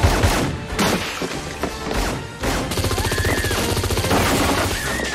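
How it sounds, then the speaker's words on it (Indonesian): Rapid bursts of gunfire in a film shootout, loud continuous automatic fire with heavy impacts and crashes, layered over dramatic background music. "Di tengah baku tembak, tiba-tiba Jamie datang."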